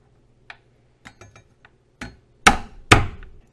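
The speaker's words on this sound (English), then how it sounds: "These joints, you just want to give them a little quick smack" A few light taps, then two sharp, loud smacks close by on cooked lobster joints, each ringing briefly; no voices.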